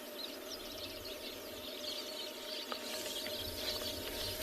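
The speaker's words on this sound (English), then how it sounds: "So lovely just sitting here listening to all the birds calling as well." Weaver birds at their nests in South Africa give a busy chorus of faint chattering and chirping calls, with a low steady hum beneath.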